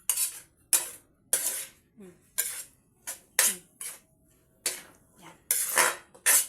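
Bihon noodles with soy sauce are tossed in a pan with a metal utensil, making about a dozen sharp scraping clanks in uneven bursts, close and crisp, with a short spoken word partway through.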